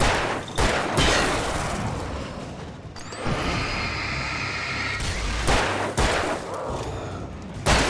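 Gunfire in the video game Alan Wake: several sharp shots spaced a second or two apart, over a dense, rumbling game soundtrack with whooshing effects.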